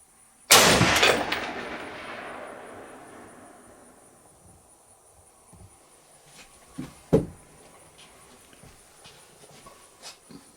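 A single loud rifle shot from a standard factory-loaded Winchester deer rifle cracks out and rolls away in a long echo, followed by a few faint distant knocks and outdoor background.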